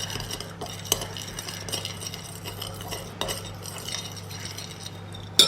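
A spoon stirs white wine vinegar into a salad dressing in a bowl, giving soft, steady scraping and occasional light clinks of metal on the dish, close and fairly quiet with no talking.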